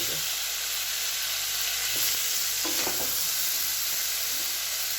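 Green jackfruit frying with spices in a pan gives a constant, dense sizzle, with a few brief scraping stirs near the middle, close up and without speech.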